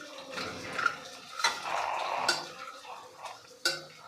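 Turmeric, chili powder and onion-garlic masala are stirred into oil in a pan for whole masoor amti, with a spoon scraping and clinking against the metal in short, irregular strokes at close range.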